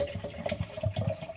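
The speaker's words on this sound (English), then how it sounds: "I'm just gonna put water in 3 jars" Water pours into glass jars close by, a gurgling, splashing stream with uneven bursts and a rising filling tone, no voices.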